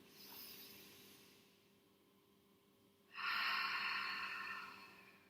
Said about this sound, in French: respiration Ujjayi, que l'on appelle aussi la respiration de l'océan, qui crée un léger bruit dans la gorge